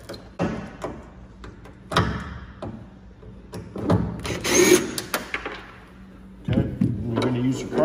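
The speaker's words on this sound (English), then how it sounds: "You're going to have to remove both of these screws right here." A T15 driver takes out the tail light screws on a 2019 GMC Sierra Denali. Close, brief bursts of power-driver whirring come in irregular spurts, mixed with clunks and handling thuds.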